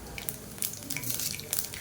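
Mustard seeds and fennel fry in hot oil in a pan, a faint steady sizzle with light crackling and popping, close and quiet without talk.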